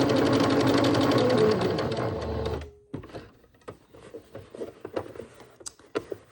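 Sewing machine stitching elastic shirring into fabric, a loud steady mechanical whir for about two and a half seconds that then stops, followed by softer handling clicks and fabric rustles.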